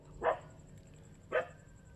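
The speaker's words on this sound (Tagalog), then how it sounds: "ayon yung background natin aso na tumatahol" A dog barks twice, about a second apart, at moderate distance against a quiet background.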